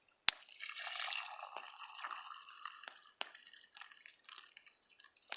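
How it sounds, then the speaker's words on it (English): Nearly boiling water is poured from a pot into a cup outdoors by a river, a close, steady splashing and gurgling that follows a sharp click and then trails off into drips. "Pour it into my cup."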